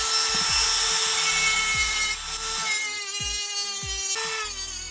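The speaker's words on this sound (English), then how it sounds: "now I'm going to use my Dremel to cut that section out" A Dremel rotary tool cuts a section out of a metal hoop, giving a high, steady whine with a grinding rasp, briefly shifting pitch as it bites, interrupted by short knocking sounds.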